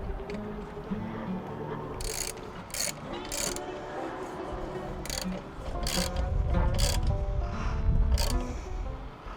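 Ratcheting wrench tightening the axle bracket nut on a rollout dock, a run of quick metallic clicks in bursts, close and fairly loud, with some clanking of parts underneath.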